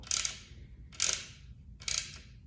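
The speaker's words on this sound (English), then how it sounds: "Let that carriage bolt seat into the plastic." A carriage bolt is turned into the plastic of an IKEA Marius stool, giving three close, evenly spaced ratcheting clicks of about a third of a second each over faint background hum.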